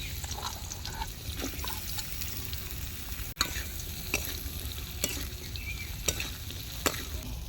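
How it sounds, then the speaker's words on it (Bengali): Bitter gourd pieces coated with turmeric and salt fry in a pan with a continuous, crackling sizzle, broken by occasional sharp stirring clicks and one brief scrape partway through. "উচ্ছেটা ভেজে নেব, হলুদ লবণ মাখিয়ে নিচ্ছি উচ্ছে।"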